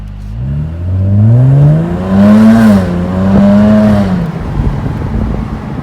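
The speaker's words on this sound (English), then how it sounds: "Put it in dynamic mode and let's do a little takeoff," A 2018 Jaguar F-Type R AWD convertible in dynamic mode accelerating hard, its exhaust rising in pitch through the gears with a brief dip at a shift, loud and close before easing off.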